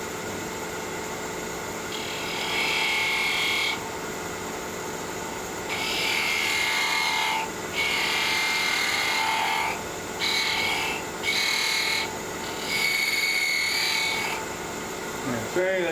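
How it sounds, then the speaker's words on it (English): A spindle gouge scrapes a wooden finial spinning on a wood-turning lathe, giving bursts of harsh scraping noise that start and stop in several passes over a steady motor hum. "but I'm going to use it as a scraper."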